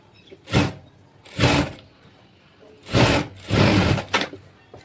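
A sewing machine stitches lining onto the pleats of a silk saree umbrella frock in four short, loud bursts with quiet pauses between them.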